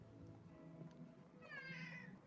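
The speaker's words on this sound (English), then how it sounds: "there's the cat." A house cat lets out a faint, drawn-out meow near the end, following a few quiet sounds in a room.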